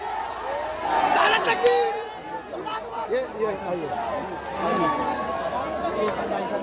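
Large crowd gathered around a politician in Jahangirpuri after a bulldozer demolition, a steady hubbub of many voices and chatter close by, with shouts rising now and then throughout.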